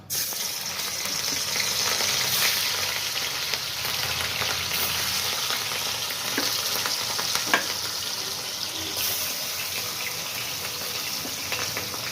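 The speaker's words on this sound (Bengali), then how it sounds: "তেলটা গরম হোক, তারপরে মাছ ছাড়বো। এবার আমি মাছগুলো ছাড়ছি।" Fish fries in hot oil for potato and pointed gourd curry, a dense continuous sizzle with occasional crackling pops, close and steady throughout.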